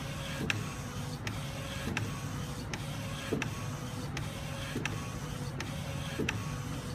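A direct-to-garment printer lays a Joker image onto a black garment, a loud steady mechanical whir with a sharp carriage click repeating roughly every 0.7 seconds, continuous and close with no voices.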